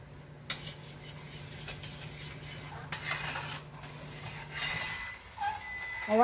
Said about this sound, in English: Just stirring it a little bit every once in a while.